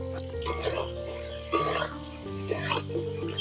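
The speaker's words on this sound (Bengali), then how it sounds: "মাছটাকে একটু নাড়াচাড়া করে ভেজে নেবো" Shrimp stirred and fried in a pan with salt and turmeric, giving a steady sizzle with scraping stirs and the odd clink of utensils, while faint voices and tonal background sound run underneath.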